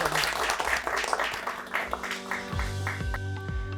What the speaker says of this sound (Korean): 박수로 마치시죠.